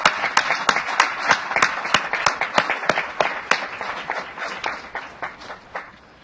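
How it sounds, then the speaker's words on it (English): A city council audience applauds in a council chamber, with steady scattered clapping at middling distance that thins gradually toward the end. "Let's give them a round of applause for the great work they did"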